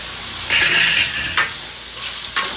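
Nellore-style fish curry with tomatoes and salt is stirred in a pot, a spoon scraping and clinking in a few short strokes over a soft simmering sizzle.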